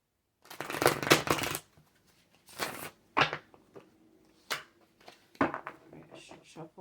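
Tarot cards being shuffled in several bursts of papery riffling and soft slaps, close and fairly loud, separated by short pauses, with a person talking in between.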